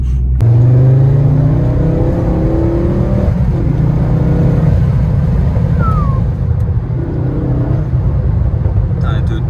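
A car engine revs up hard in a strong rising pull, loud and close, then settles into a rough rumbling drone while people talk over it.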